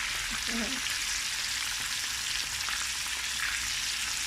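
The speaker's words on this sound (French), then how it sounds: "Voilà, nos ailes sont en train de frire." Chicken wings frying in hot oil, a steady dense sizzle filling the whole stretch at close range, with a few faint voiced sounds briefly near the start.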